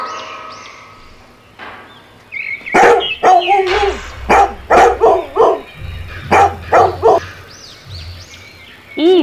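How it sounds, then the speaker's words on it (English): A dog barks in a run of about a dozen sharp, loud yaps and barks grouped in quick bursts, close up, with a faint background hum and no talking. "D for dog."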